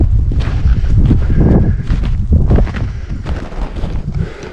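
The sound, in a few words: wind blowing on a snowy winter trail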